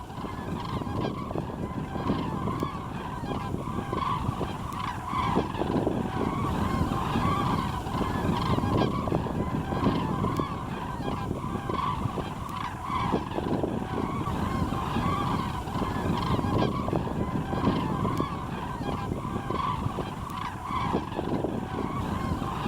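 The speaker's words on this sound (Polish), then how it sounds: "Lecą w kluczach lub skośnych szeregach i wydają donośny głos zwany klangorem." A flock of migrating common cranes in flight calls with a loud, continuous bugling klangor, many overlapping trumpeting voices rising and falling over a steady outdoor background.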